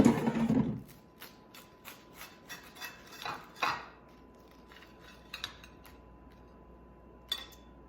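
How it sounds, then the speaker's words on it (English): A knife scrapes and crunches through a crisp air-fried grilled cheese sandwich in short bursts, followed by a few faint cutting clicks against a plate. "Let's cut into one of these and let's see how gooey and yummy the cheese is."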